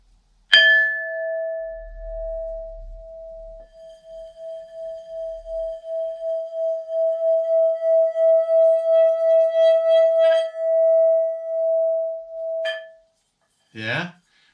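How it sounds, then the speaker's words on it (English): A carved Buddha bowl from a market is struck once and rings with a pure, sustained tone that slowly pulses and fades over about twelve seconds, followed by a brief rattle at the end. "I found this bowl, which I liked, which has an incredible sound."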